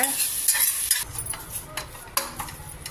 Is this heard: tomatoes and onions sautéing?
yes